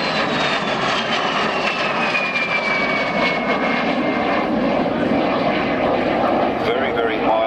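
Two-seat trainer aircraft flying at an airshow, its engine drone steady and loud throughout with a slowly falling pitch as it passes, while voices talk over it.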